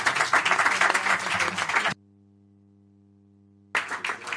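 Audience at a social forum on visual disability applauds a panel, brisk clapping from many hands that cuts to silence midway, then resumes briefly.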